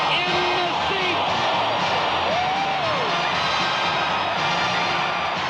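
A football stadium crowd at a 1978 Atlanta Falcons game roars and cheers after a successful point after, a sustained loud wash of crowd noise with whoops and a commentator's voice over it.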